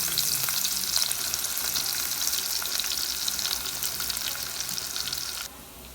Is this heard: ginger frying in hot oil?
yes